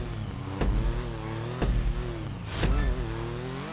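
Shotaro motorcycle engine in GTA Online revving in three sharp bursts over a steady running drone, close and fairly loud, with no talk.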